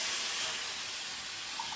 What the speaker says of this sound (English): So I'm going to toss our shrimp in.